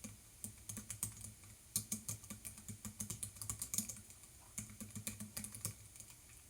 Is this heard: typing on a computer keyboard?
yes